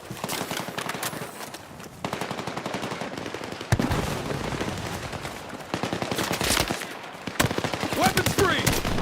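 Gunfire in the game Battlefield 6 on veteran difficulty, sustained rapid automatic bursts with heavier impacts and blasts mixed in, loud and close, with some voices occasionally heard under the shooting.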